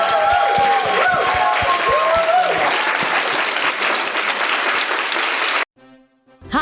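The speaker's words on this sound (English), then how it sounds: "please, let's give our guests a round of applause." Loud, dense applause from a convention audience for guests of a Doctor Who panel at LI Who 2023, with crowd voices mixed in. It stays steady for several seconds and then cuts off abruptly.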